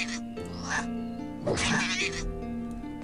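A cat in the fantasy role-playing game Beyond Divinity gives a couple of drawn-out, wavering meows, close and clear over a humming background.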